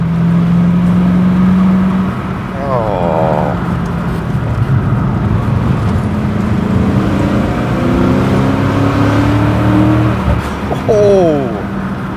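MG ZT 260 fitted with a factory Mustang V8 engine driving, a steady loud engine drone with shifting pitch and brief rises, running under conversation throughout.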